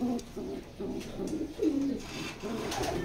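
Racing pigeons coo in a steady series of soft, low, rolling calls, one after another at close range with no talk over them.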